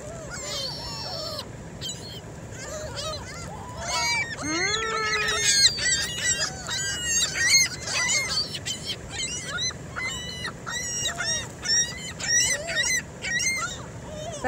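A large flock of pigeons or gulls gathers in a Sam's store parking lot in a busy, overlapping chorus of squawks and rising cries under a steady outdoor rumble, with bursts of calls coming close.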